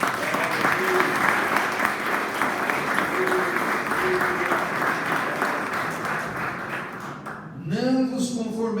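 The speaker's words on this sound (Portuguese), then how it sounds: "Aplauda Jesus" Church congregation applauding in a steady, dense wash of clapping that continues for most of the stretch, with a voice and a rising tonal sound emerging near the end as it thins out.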